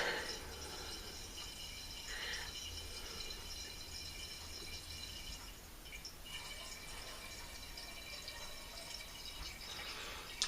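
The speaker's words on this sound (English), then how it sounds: "so I'm going to fill up the jug probably like 3/4 of the way. You guys can see the jug filling up over there." Merlot wine from a Fontana kit poured into a jug, a faint, continuous trickling and splashing of liquid with small dripping accents, steady throughout and without talk.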